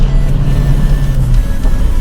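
A rare JDM Toyota Celica Sports M engine at high revs as its VVTi lift engages near 6,200 RPM, a loud, close, sustained drone that holds steady with no talking.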